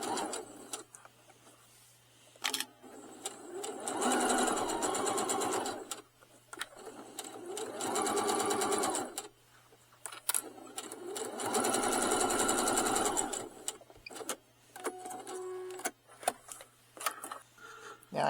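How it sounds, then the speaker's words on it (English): Sewing machine stitching along the edge of strapping on a trolley duffel bag, several sustained runs of rapid needle chatter separated by short pauses with handling noises, close and fairly loud. "I'm sewing right along the edge, maybe 1/8 of an inch, and you should feel your needle go into the strapping."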